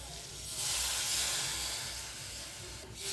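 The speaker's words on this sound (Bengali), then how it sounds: "পুরো মশলাটা কষানো হয়ে গেছে, এবার আমি দিয়ে দেবো হচ্ছে গরম জল" Hot water is poured into fried poppy-seed and mustard masala for an egg curry, setting off a loud, broad steamy hiss that swells, holds for a couple of seconds, then slowly fades.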